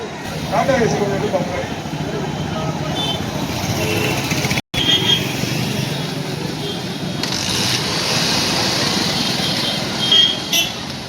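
Several road vehicles roll in slowly past a crowd arriving for a Tamil memorial day gathering in Vandavasi, engines rumbling with a brief horn toot, under steady chatter and an announcer's voice.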